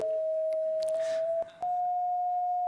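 A steady pure electronic tone from a color-sensing eye sensor, representing the green of grass, holds for nearly three seconds and dips briefly in the middle, with soft clicks and faint background rustle.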